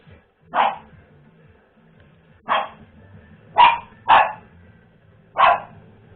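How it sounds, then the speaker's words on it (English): A pet dog named Pip barks five times in separate short bursts, fairly close and loud, with irregular gaps between the barks over a quiet background. "And my dog barking."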